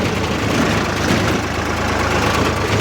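A tractor engine turning at low RPM while pulling a plough in a field, a loud, steady low diesel rumble with an even throbbing pulse, close by and uninterrupted, with no voices.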